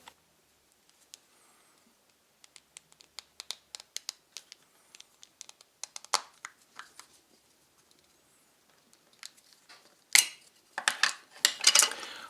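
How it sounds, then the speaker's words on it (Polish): The plastic housing of a Toyota car key fob is pried open with its metal key: sparse small clicks and scrapes build up close by, then a denser burst of cracking snaps near the end, with no speech. "Po wyjęciu tym kluczykiem otwieramy obudowę,"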